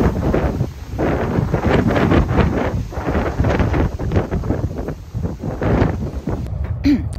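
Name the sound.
strong wind blowing outdoors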